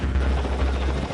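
A US Marine Corps military helicopter supporting amphibious operations roars close and loud, its heavy low rotor thump and engine rumble steady and continuous throughout.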